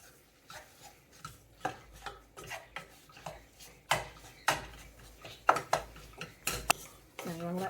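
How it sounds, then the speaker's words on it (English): Flour being stirred into bubbling gravy in a pot for chicken pot pie, with a steady run of close clinks and scrapes of a utensil against the pot and a faint simmer underneath, no talk. "Stir it all up."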